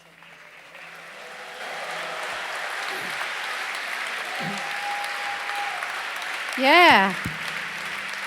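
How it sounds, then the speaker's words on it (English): Concert audience in Cologne's Kulturkirche applauds a brave volunteer at an acoustic show, a steady moderate wash of clapping throughout, with a brief spoken word and a louder vocal outburst near the end. "Big round of applause for this very brave man."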